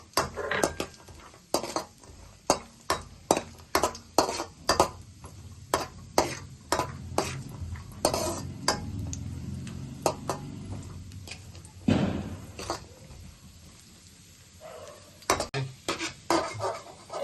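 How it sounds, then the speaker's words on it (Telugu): Cashews and raisins fry in ghee in a pan over low heat, a soft sizzle beneath repeated sharp clinks and scrapes of a spoon against the metal pan, steady stirring throughout with no talk. "స్టవ్ సిమ్లో పెట్టుకుని ముందు జీడిపప్పు కిస్మిస్ వేయించుకుందాం."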